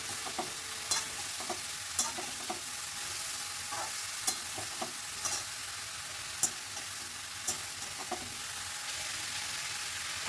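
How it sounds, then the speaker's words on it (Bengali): Spices with turmeric and salt being stirred in a frying pan: a low continuous sizzle beneath sharp, irregular scrapes and clicks of the spoon against the metal, heard up close with no talking. "দিয়ে সব কিছু ভালো করে মিশিয়ে নিচ্ছি।"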